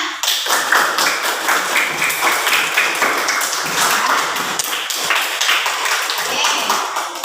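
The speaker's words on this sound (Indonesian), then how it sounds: "Beri tepuk tangan untuk anak-anak semuanya." Schoolchildren in a classroom clap their hands together loudly and close by, a busy stream of sharp, overlapping slaps that carries on for several seconds.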